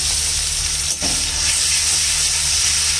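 Onions sautéing in a pan while cooking radish with dried fish, a steady close sizzle and hiss running throughout with one brief dip near the start.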